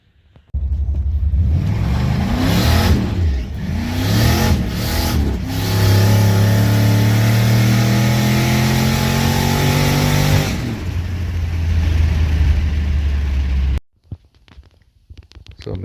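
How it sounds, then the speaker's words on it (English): A turbocharged 6.2L V8 swapped into a Ford Crown Victoria, running about 4 psi of boost, revs hard and loud close by, rising and falling through several throttle blips before a long sustained pull, then cutting off abruptly. "Do you want your Crown Vic to sound like this?"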